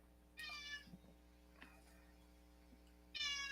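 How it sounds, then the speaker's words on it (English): A pet cat meows twice indoors, a loud close cry at the start and another at the end, with faint thumps and a low mains hum between. "It's the kitty right here. Yeah. Oh, Um, yeah, he's meowing."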